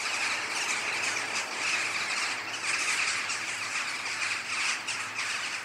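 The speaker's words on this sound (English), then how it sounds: "All those birds." Many birds call and squawk at once in a dense, continuous chorus, loud and steady throughout, with shrill high calls overlapping.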